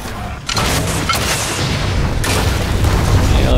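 Loud booming mortar fire from the Evolve video game, a dense, sustained blast of explosive rumble filling the whole moment with no voices.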